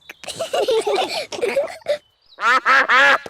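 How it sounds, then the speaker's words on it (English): Cartoon ducks quacking loudly at a picnic, a rapid run of nasal quacks followed by a pause and then a few longer, drawn-out quacks, all close and clear. "Oh, it's the ducks. They always turn up when we have a picnic."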